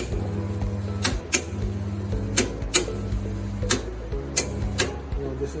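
An Electroweld pneumatic rod butt welder (20 kVA) heating a steel rod joint, a steady electrical hum with sharp irregular clicks and snaps, close and moderately loud.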